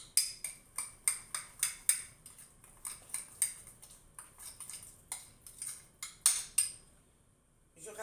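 Metal utensils clink and scrape against a dish while fried sea bream and onions are mixed, a steady series of sharp, close taps that stops near the end, leaving brief quiet.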